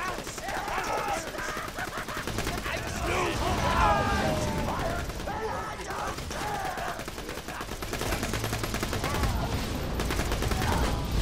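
Infinity pistol firing in Borderlands 2: a steady, rapid rattle of gunshots runs throughout under game voices, with a brief lull near the middle.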